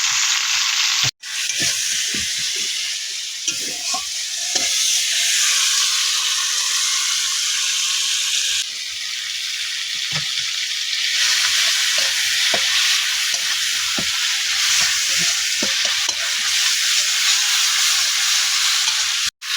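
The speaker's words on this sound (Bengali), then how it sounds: "পেঁয়াজ টাকাতে একসঙ্গে ভেজে মশলা করে নেব।" Steady loud sizzling of onions and bay leaves frying in hot oil, with intermittent scraping and stirring clicks throughout; no voices.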